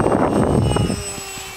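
A Kronik jet model aircraft flies on a windy day with a loud, close jet whoosh that drops away after about a second, leaving a thin high whine over a quieter background.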